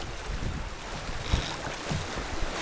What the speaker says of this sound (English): the wind was blowing from behind